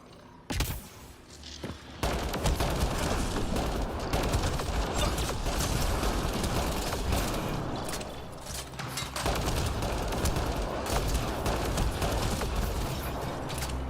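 Sustained automatic gunfire in the sci-fi shooter Mass Effect Andromeda, a dense continuous rattle of shots that runs nearly unbroken for over ten seconds after a brief sharp opening burst, with mechanical clanks mixed in.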